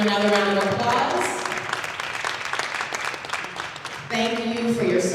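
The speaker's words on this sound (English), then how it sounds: "Let's give them another round of applause." An audience at an Urban League annual meeting applauds in a dense, sustained wash of clapping that eases midway and swells again, with a voice speaking over it.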